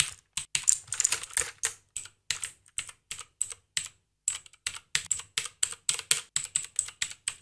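Quick irregular keystrokes on a small computer keyboard, close and crisp, arriving in bursts with a brief pause midway and no voices.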